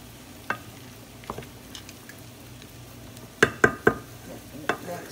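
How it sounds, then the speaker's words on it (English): Corn kernels stirred through melted butter in a pan, with a faint sizzle underneath and a few sharp spoon-against-pan scrapes and knocks, clustered near the end. "Get all the corn kind of mixed into the butter a little bit."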